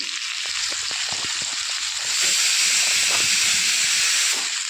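Potatoes fry in hot oil with a garam masala tempering, giving a loud, continuous steamy hiss that grows stronger midway and stays steady with no voices.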